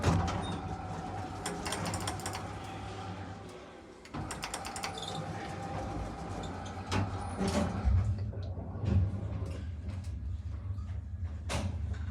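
An Otis traction elevator at the Hotel Carlos V in Toledo runs with a steady low mechanical hum, rattles and clicks from gears and doors, and a brief dip in the drone partway through, with no talk.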